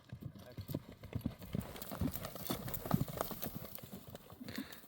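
A ridden horse's hooves clip-clop in a fast, steady rhythm of dense hoofbeats, with faint voices and outdoor noise in the background.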